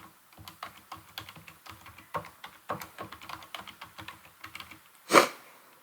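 Keys clatter on a computer keyboard in a steady run of close, crisp taps for several seconds, ending in one louder, sharper keystroke, with no voices.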